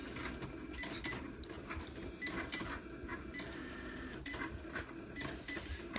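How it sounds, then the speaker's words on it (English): Cricut cutting machine using its draw feature to sketch Spider-Man, a continuous close mechanical whirring with rhythmic clicks and carriage taps, steady throughout with no talking. "Now I'm drawing Spider-Man on my Cricut."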